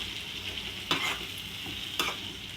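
Soaked chicken liver frying in hot oil in a kadai, a steady close sizzle broken by two sharp stirring scrapes, no voices.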